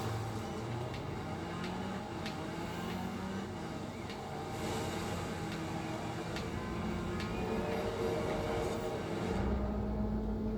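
Continuous low rumble of a train in Forza Horizon 4, in a snowy winter setting, mixed with a car engine roaring steadily throughout, ending with a shift in engine tone.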